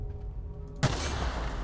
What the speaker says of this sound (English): I just walked straight into the explosion